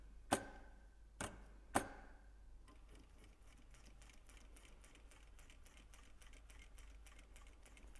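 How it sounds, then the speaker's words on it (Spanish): A sewing machine with a teflon presser foot stitches a load-bearing seam in unconventional material, giving a faint, steady run of rapid needle ticks after a few sharp knocks. "Vamos a probar de hacer una costura de carga en este material con la pata de teflón"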